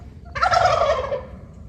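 A male turkey lets out a single loud, close gobble lasting about a second, with a rapid warbling rattle that fades out.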